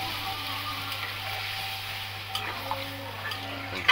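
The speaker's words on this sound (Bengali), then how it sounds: "এবার দিয়ে দেবো ঝোল" Curry broth hits a hot pan on a home stove in a driver's roadside cooking, giving a steady close sizzle with soft stirring scrapes and a few small clinks, a louder clatter at the very end.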